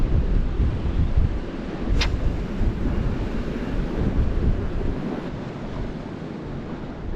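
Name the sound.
wind on open water while lure fishing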